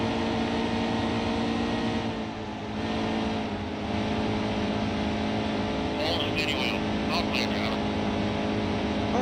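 A race truck engine in the NASCAR Heat 2 video game at Pocono, droning steadily at lowered revs as the throttle eases off, a constant mid-level hum with a few brief higher clicks near the end and someone talking over it.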